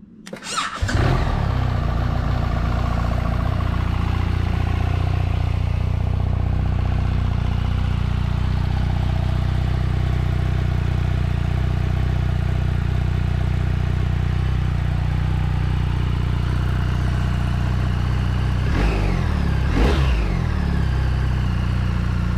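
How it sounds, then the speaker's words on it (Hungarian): A BMW R 1300 GS motorcycle engine starts with a short crank, then settles into a steady, throaty idle with two brief revs near the end. "Nézzük meg a motort és indítsuk be,"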